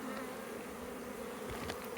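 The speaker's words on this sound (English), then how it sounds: "So I can see bees fanning, I can hear them fanning." Honey bees fanning at a hive entrance give off a steady, faint, even hum with a low drone throughout and no voices.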